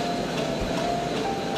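A train with wagons rolling along rails at a steady, continuous rumble, moderately loud and unbroken, with a faint tonal whine running through it and no voices.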